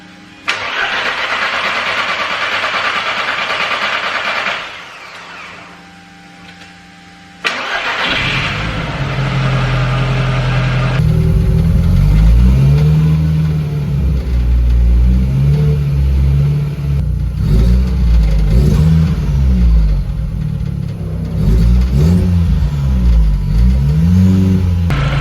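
A VW Mk1 Golf with a 1.8T engine and all-wheel drive cranks with a steady whirring starter, pauses, then catches and runs loud and close, idling roughly and rising in repeated throttle blips.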